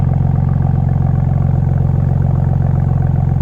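Exhaust of a 2023 BMW M2 with flap-valve exhaust, a steady deep engine burble with a fast pulsing throb, loud and continuous, heard close without talk.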